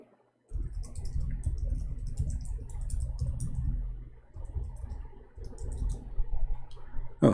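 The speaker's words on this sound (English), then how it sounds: "Oh, I was typing" Computer keyboard typing: quick clustered clicks and keystrokes in close, steady bursts, with a short pause midway and a louder clack right at the end.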